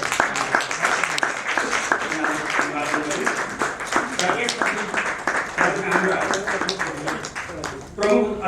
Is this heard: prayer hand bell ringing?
no